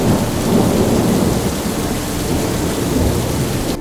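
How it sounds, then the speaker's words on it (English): Heavy rain pours steadily on a sailboat with low rumbling thunder underneath, a dense, continuous roar with no voices. "the thunderstorm is finally here, and it is pelting down rain all around us."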